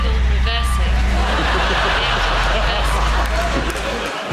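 A person imitates a vehicle reversing with a loud, continuous vocal drone, heard over noisy studio crowd laughter and chatter.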